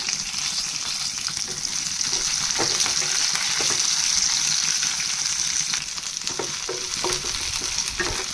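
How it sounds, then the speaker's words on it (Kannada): Green chillies sizzle steadily in hot oil in a pan, a close, even frying hiss with a few soft clinks of stirring and no talk. "ಹಸಿಮೆಣಸಿನಕಾಯಿ ಸೇರಿಸ್ಕೊಂಡು ಅದು ಸ್ವಲ್ಪ ಫ್ರೈ ಮಾಡ್ಕೊಳ್ಳಿ"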